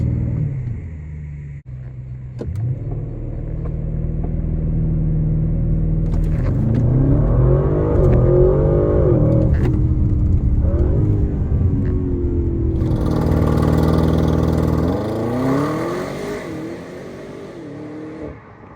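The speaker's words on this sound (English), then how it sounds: "and now also the ESC is in sport mode, and so I just accelerate all the way" An Audi RS6 Performance launches from a standstill with ESC in sport mode and accelerates flat out, its engine note climbing through loud, sustained roaring pulls with gear-change dips and finally easing off, heard from inside the car.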